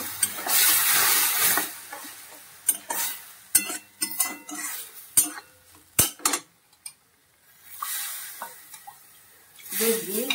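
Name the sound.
stirring milk into a pan on the gas stove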